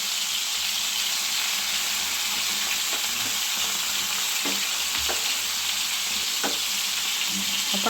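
Prawns with coconut slices frying in a pan, a steady loud sizzle and hiss with occasional clicks and scrapes as pieces are laid in and moved.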